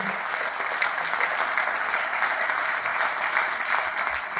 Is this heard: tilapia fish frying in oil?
no